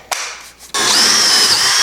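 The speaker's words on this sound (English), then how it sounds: "Drill our hole and cut it out." A power drill bores a hole through MDF while framing a van window ring, a brief spin-up and pause giving way to a loud, steady whine that holds close and alone to the end.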